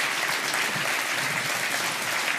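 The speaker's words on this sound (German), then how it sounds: "Ganz, ganz herzlichen Dank und einen grossen Applaus." Brief round of audience applause in a television health show studio, moderately loud and even, steady clapping with no talk over it.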